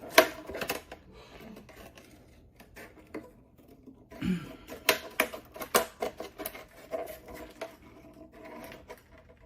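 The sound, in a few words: scissors cutting card paper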